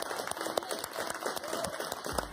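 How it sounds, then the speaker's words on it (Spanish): A studio audience on an Argentine television talk show applauds a guest's arrival, quick, fairly faint clapping with a crowd murmur underneath. "Un aplauso para Rolito"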